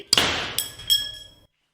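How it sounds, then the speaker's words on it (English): A shotgun shell primer pops inside a homemade axe mechanism behind a sheet of bulletproof glass: a sharp close crack with metallic ringing, then a second lighter clank, both decaying quickly into silence. "It was a bang, but it wasn't very strong. I mean, it was only the primer in the casing."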